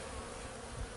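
Robber bees swarm around a beehive, clustering and pushing to get in: a dense, steady insect buzz of many bees at close range, continuous and alone.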